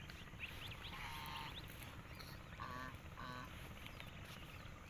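Duck calls from a mother duck swimming with her ducklings, several short honking quacks around the middle of the stretch, heard moderately close over steady low outdoor background noise.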